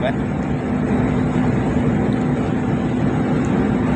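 Tanker truck's pump engine running on a street corner while delivering fuel, a loud, steady, rough mechanical rumble with a constant hum, close and unbroken.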